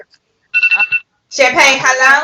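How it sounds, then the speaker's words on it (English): A phone alarm ringing in a room during a casual book discussion: a short, bright, pulsing electronic ring, followed by a person talking loudly and close. "That's my alarm."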